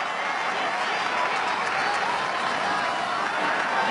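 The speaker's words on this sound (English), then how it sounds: "this crowd has just continued to lift in intensity as this match has gone on" Crowd at a Japan versus New Zealand Maori rugby international applauds and cheers in a sustained, dense roar that stays loud and even throughout, with a commentator's voice faintly beneath.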